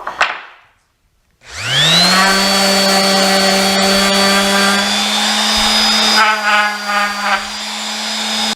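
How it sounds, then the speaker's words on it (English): A power sander works over small wooden shelf braces for a decorative window top shelf, starting after a brief pause and then holding a loud, steady motor whine with no talk. "I'm going to sand them, smooth them down a little bit"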